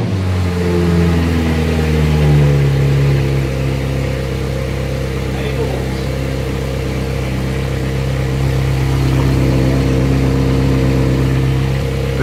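A Ferrari F430 engine running with the coolant cap off while bleeding air from the cooling system, a steady mid-pitched idle that rises briefly early on, then holds an even drone with no talk.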